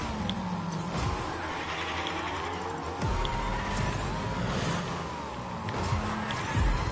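Car engine in the Fortnite video game, revving and shifting pitch as the vehicle drives and drifts, with repeated rising and falling tones, sharp tire squeal bursts and clattering impacts, loud and close throughout.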